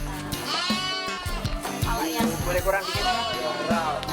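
Sacrificial goats for sale ahead of Eid al-Adha bleat repeatedly and loudly, with several overlapping, wavering calls close by over a busy background.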